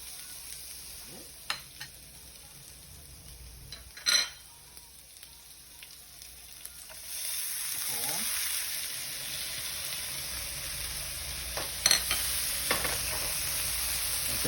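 Onion frying in a pan for Korean braised tofu, quiet crackle and a few utensil clicks at first, then a louder, steady sizzle swelling up as the onion hits hot oil, with sharp taps of a spatula.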